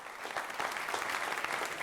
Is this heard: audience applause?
yes